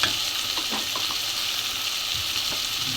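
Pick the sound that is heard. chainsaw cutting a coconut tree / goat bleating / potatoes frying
potatoes frying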